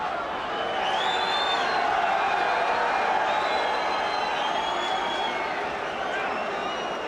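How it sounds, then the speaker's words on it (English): A boxing arena crowd swells into a steady roar as Donald Trump arrives with Marla Maples, a dense, continuous wash of voices filling the whole stretch with faint whistles rising above it. "that little roar of the crowd was the arrival of Donald Trump with Marla Maples"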